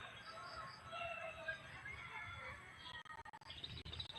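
Faint chirps and tweets from a tame bird in the open, scattered high calls over a soft background hiss, with no talking.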